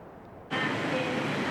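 A night train at Hanoi station in Vietnam: after a quiet half second, a loud, steady broadband rumble and rush of a train begins abruptly and fills the rest of the clip.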